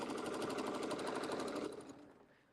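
A sewing machine stitches a quilt in the ditch along a straight-edge ruler, running in a steady rapid whirring rhythm up close for most of the moment before winding down and falling quiet.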